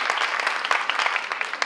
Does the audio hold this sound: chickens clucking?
no